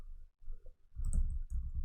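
Computer keyboard typing in short bursts of clicking, close and fairly quiet, with no talk over it.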